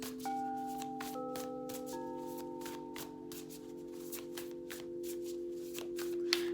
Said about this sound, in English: I'm gonna pull some cards to see the energies of this week.